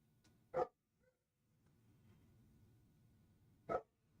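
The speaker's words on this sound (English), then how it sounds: "Not sure if you can hear barking" A dog barks twice, about three seconds apart, each bark short and sharp and somewhat distant, over a low steady background hum.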